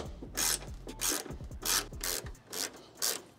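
A 10 mm ratchet wrench works headlight bolts loose on a second-generation Toyota Tacoma, giving repeated close clicking and rasping strokes about twice a second, with no talking.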